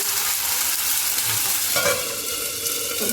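Onion and tomato fry in a pan with ginger-garlic paste, giving a loud continuous sizzle close up, with a scrape of stirring partway through.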